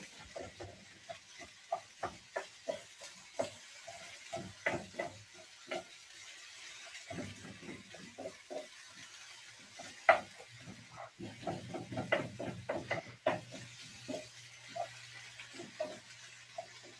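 Spring onions from the garden and stuffed bell pepper filling cooking in a pan, a quiet low sizzle under scattered stirring scrapes and soft clicks.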